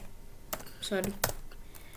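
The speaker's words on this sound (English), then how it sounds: "just type div" Several sharp, close keystrokes on a computer keyboard, a short uneven burst of taps, with a brief bit of voice in between.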